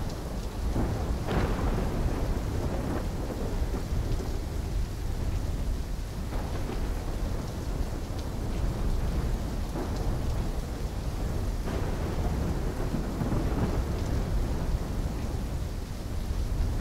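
Steady heavy rain with repeated rolling thunder in a Call of Duty Black Ops III storm, a dense continuous downpour broken by deep rumbles and a few sharper cracks, with no voices.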